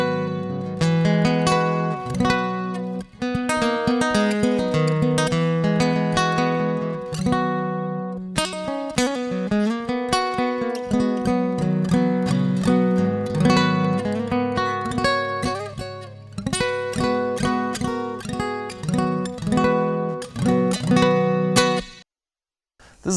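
Acoustic guitar played through a Kemper Profiler with compression and an Eventide H9 reverb, strummed and picked in a lively rhythmic pattern with ringing chords and a reverberant tail, clear and alone for over twenty seconds.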